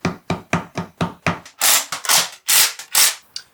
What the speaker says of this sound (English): Sometimes it takes a lot of clamping power to make sure everything is straight and square